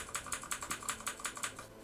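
Fast, even keystrokes on a Philips SPK8294 quiet gaming keyboard come in a rapid run of soft, muted clicks, heard close and alone.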